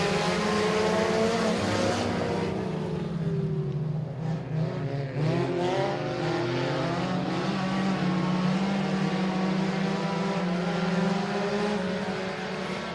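Race cars lapping a dirt speedway at Boothill Speedway, engines roaring loud and steady throughout, layered multi-car drone with pitch rising and falling as cars pass, near and continuous.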